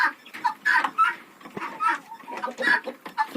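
A rooster and hens clucking close by in a Ukrainian village yard, a run of short choppy clucks and murmurs in quick irregular bursts.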